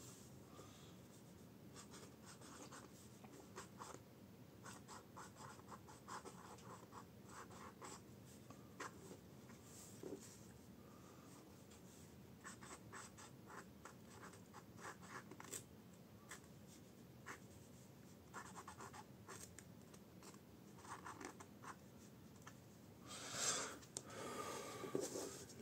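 A stub nib on a Lanbitou 3088A fountain pen scratches across paper in a steady run of faint, close, rasping strokes with short pauses, ending in a louder rustle.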